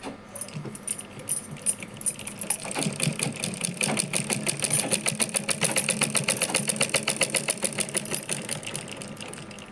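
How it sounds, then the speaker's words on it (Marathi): A sewing machine runs steadily, stitching saree lace into a reusable item, its rapid even needle rhythm loud and close, starting and stopping briefly before settling into a continuous run. "ह्याला इकडून ह्या बाजूने पूर्ण शिवून घेऊ आपण हे बघा हे असं मी शिवून घेते"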